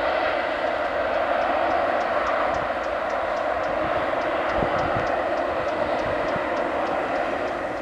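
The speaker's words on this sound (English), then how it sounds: "There you go, A380 at Manchester Airport." An Emirates Airbus A380 lands at Manchester Airport, heard as a steady, loud, broad jet roar that holds for the whole stretch, with engine whine continuous beneath it and no talking.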